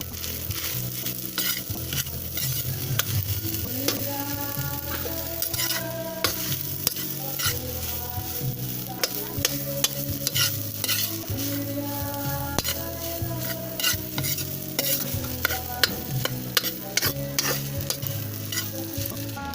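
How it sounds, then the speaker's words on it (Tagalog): Potatoes stirred in a hot frying pan for adobong patatas, a steady close sizzle with continuous scraping and stirring strokes throughout, no voices. "ilalagay natin tong patatas. and hahaluin natin siya ulit"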